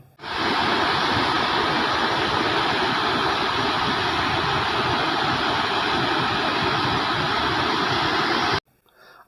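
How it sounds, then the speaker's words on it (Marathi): Water roars from the overflowing Sina Kolegaon dam with many floodgates open, a loud, steady, unbroken rush that fills the air for about eight seconds before cutting off abruptly. "धरणातून मोठ्या प्रमाणावर पाण्याचा विसर्ग सुरू आहे"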